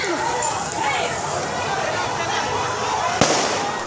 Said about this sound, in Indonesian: Tembakan ke udara dilepas polisi untuk membubarkan pendemo.